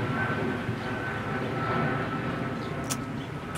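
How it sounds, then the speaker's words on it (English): A plane passes overhead outdoors, its steady broadband engine roar holding loud and continuous throughout, with no voices over it. "Plane."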